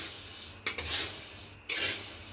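Sago pearls dry roasting in a pan give short scraping, rustling bursts as they are stirred, close and fairly quiet, with two clear strokes and pauses in between.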